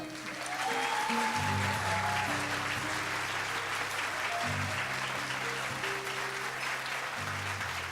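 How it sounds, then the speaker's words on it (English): Sustained applause fills an awards ceremony hall, a steady dense wash of clapping from a large audience with low music-like tones underneath throughout. "Let's give them a round of applause."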